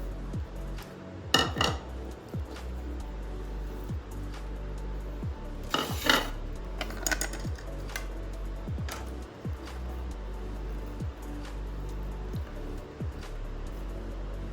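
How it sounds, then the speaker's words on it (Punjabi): Raw green mango chutney pounded by hand in a traditional mortar and pestle, with steady, evenly spaced thuds repeating about once a second over a quiet kitchen background, with no talking. "ਸਾਰੇ ਨੂੰ ਆਪਾਂ ਕੁੰਡੇ ਡੰਡੇ ਵਿੱਚ ਬੜੀ ਰੀਝ ਨਾਲ ਚਟਨੀ ਤਿਆਰ ਕਰਨੀ ਹੈ"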